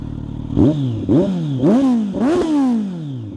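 A Kawasaki Z900 motorcycle with a Leo Vince GP Corsa slip-on exhaust is revved four times in quick succession. Each blip rises sharply and then falls back to a rough idle, loud and close, with no voices.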